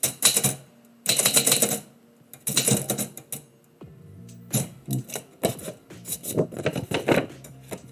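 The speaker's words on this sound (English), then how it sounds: "I start typing something and then I stop." A manual typewriter clatters in quick bursts of keystrokes, pausing between runs, with a carriage return or bell-like ring near the middle; close and fairly loud, no talking.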